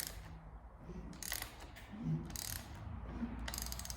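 Ratchet clicking steadily as it turns over a small block Chevrolet engine by hand, a quiet mechanical ticking with a few louder pulls, close by with no talking.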